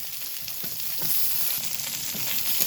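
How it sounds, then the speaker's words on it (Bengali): Cauliflower stalks stir-fried in a hot pan make a steady, close sizzle with soft scraping from stirring and no voices. "খুব ভালো করে কুন্তি দিয়ে নাড়াচাড়া করে একটু ভেজে নেব"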